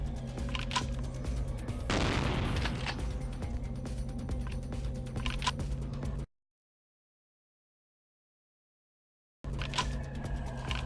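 Gunfire in Vampire: The Masquerade - Bloodlines, with rapid clicking and crackling shots under a steady hum, one louder burst near the start, then a sudden stretch of complete silence before the noise returns.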